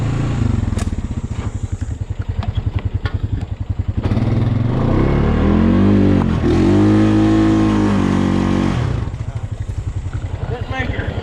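A four-wheeler ATV engine labours up a steep trail in four-wheel drive, a loud, close, chugging motor with rhythmic pulsing and a revving surge in the middle, joined by clattering over rough ground.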